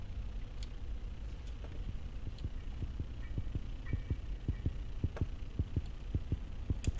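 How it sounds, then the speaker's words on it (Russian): A heartbeat sound effect from the horror game Granny thuds in a steady, fairly quick double-beat rhythm over a low hum, alone without speech. "то, что у меня сердцебиение резко такое стало."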